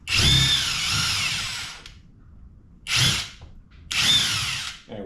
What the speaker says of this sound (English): now let's test the feature of the drill